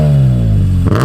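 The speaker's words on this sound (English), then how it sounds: "it's a proper straight 6 tone that we all know and love" A BMW E46 M3 straight-six engine revs loudly and close, a smooth rising-then-falling howl lasting about a second with a brief blip at the end.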